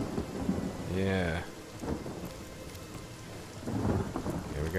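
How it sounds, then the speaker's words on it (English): A rain and thunder spell in the video game Divinity: Original Sin rolls out as a steady downpour with deep thunder rumbles, and a distinct tonal whoosh rises early in the casting. "Let me do rain."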